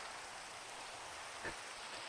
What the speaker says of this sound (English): It's gonna sound like it's raining